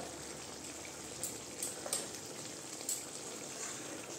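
Onion and tomato frying in a pan with garam masala give a faint, steady sizzle close by, with a few brief clicks and pops rising above the hiss and no talking.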